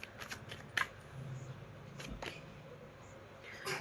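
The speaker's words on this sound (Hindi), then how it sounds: "चलिए कुछ कार्ड्स मैं और लूंगी" Tarot cards shuffled and drawn by hand, with a few soft, close riffles and flicks separated by quiet gaps.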